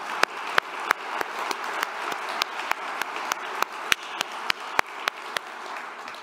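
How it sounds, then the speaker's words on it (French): A crowd applauds volunteers at an event, a steady wash of clapping for about six seconds with sharp, regular louder claps cutting through. "ça mérite une autre salve d'applaudissements pour ces bénévoles."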